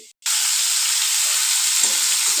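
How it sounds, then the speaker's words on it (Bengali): Loud, steady sizzling and crackling of cauliflower frying in hot oil, starting abruptly and continuing without pause, close up. "ফুলকপিগুলো ভেজে নিচ্ছি"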